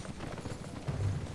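Horse hooves gallop in a video game, a soft, quick run of muffled clip-clop beats, low and steady, with no talk.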